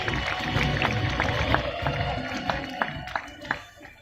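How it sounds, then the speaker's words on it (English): Audience at the King of the Skies bird of prey show at Jurong Bird Park, Singapore, applauding after a white-bellied sea eagle demonstration, a steady moderate patter of clapping from the crowd with scattered louder claps. "Let's give him a big round of applause, everyone."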